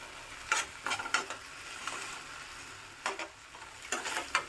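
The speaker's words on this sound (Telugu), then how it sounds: "వీటిని బాగా కలుపుకుందాం, సాస్ వీటికి పట్టేలాగా." Fried cauliflower pieces being stirred into sauce in a pan for gobi manchurian, faint scraping and clinking strokes in irregular clusters over a soft background hiss.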